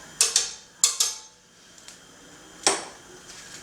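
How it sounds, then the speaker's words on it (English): A knife's spine scrapes garlic across a cutting board while making Korean seaweed soup, heard as a few short, sharp scrapes close up, with quieter handling in between. "using the back side so you don't dull your blade, scrape up some of that garlic and give it another press"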